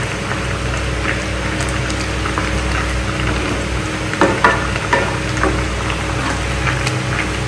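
Bottle gourd halwa simmering in reducing milk, a loud steady bubbling sizzle with a few brief scrapes of a spoon stirring the pan, close by.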